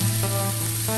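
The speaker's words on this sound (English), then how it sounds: "Oh boy, you hear that sizzle?" Ribeye steak sizzles loudly and continuously on a hot griddle, a dense, close frying hiss with a faint steady hum underneath.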